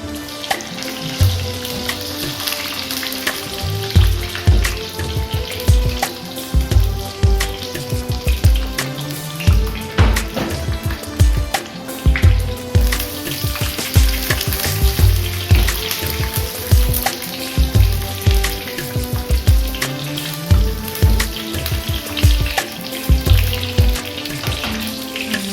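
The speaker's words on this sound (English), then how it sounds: "going to shallow fry so they get cooked and also they get a nice glaze on top." Aubergine pieces shallow frying in hot oil for a South Indian brinjal curry, giving a steady, loud, close sizzle with bursts of crackle and spatter throughout, no voices.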